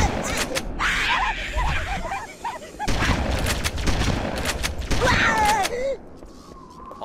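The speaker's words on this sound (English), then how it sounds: "Gonna grab out my shotgun." Shotgun blasts ring out in Halo: Combat Evolved, several loud booming shots fired in bursts amid gameplay combat noise and creaking mechanical effects.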